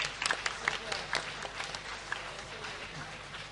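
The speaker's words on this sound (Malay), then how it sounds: "Satu tepukan untuk semua jawatankuasa dan penganjur" A hall audience at a Malaysian career carnival closing ceremony applauds the committee and organisers, a dense burst of clapping with a voice over it that tapers toward the end.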